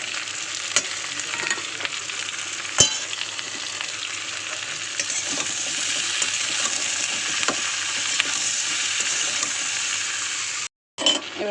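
Ginger garlic paste, turmeric, salt and chili powder sizzle loudly in hot oil, a dense continuous frying hiss with occasional stirring clicks, then a brief dropout near the end.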